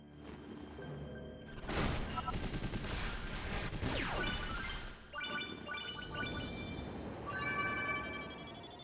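Rapid shooting in Kid Icarus: Uprising during a flying battle against monsters, with dense bursts of fire, sweeping whooshes and bright chiming effects, moderately loud and without voices.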